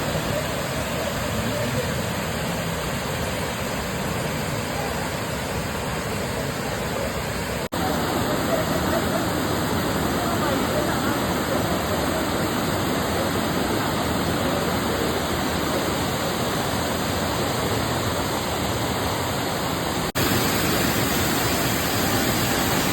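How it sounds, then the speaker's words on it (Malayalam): Marottichal waterfall in Kerala, swollen after rain, pours in a steady, dense broadband roar. It runs unbroken for the full length at a constant loud level, with no distinct voices rising above it. "നമ്മുടെ ഈ മരുട്ടിച്ചാലിൽ സ്ഥിതി ചെയ്യുന്ന ഈ വെള്ളച്ചാട്ടം"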